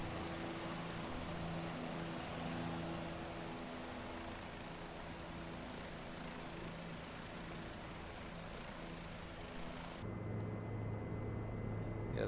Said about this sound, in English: Now that is exactly what a Jet Ranger sounds like